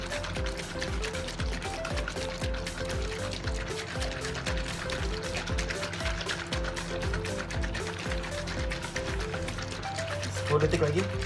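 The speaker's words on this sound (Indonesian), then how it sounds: "Oke, kita tuang." Shock absorber oil pours in a steady liquid stream under continuous talk and background music, with a faint trickle near the end.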